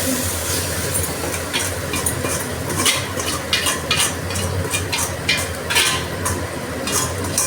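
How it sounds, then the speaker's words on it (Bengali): Chow mein tossed with potatoes in a hot pan makes a loud, continuous sizzle with repeated scraping and clattering stirs at close range, and nobody speaks. "চাউমিনটা দিয়ে দেবো। তো এবার নাড়াচাড়া করতে থাকবো"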